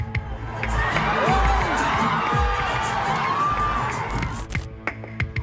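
A crowd of fans cheers and whoops at an event, a dense, loud roar of many voices with shouts rising and falling continuously throughout.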